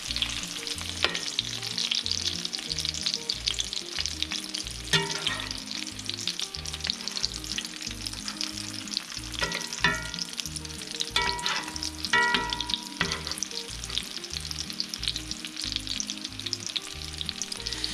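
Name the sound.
chicken breast frying in a pan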